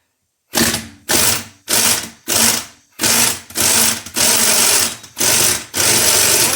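Ratchet with a 14 mm socket turning the strut nut on an Acura Legend front strut, loud close bursts of rapid clicking repeated about nine times in a steady rhythm, with no talking.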